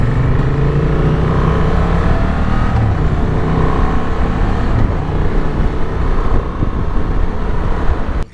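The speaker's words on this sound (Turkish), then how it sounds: "egzoz çok güzel ses veriyor" A 2023 Honda Transalp 750 motorcycle's loud, steady engine rumble drones throughout with a low throaty exhaust tone and buffeting wind noise, close to the microphone.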